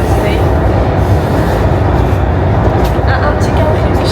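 A Paris metro train rumbles loudly in a continuous roar, the noisy ride filling the carriage with faint voices murmuring underneath.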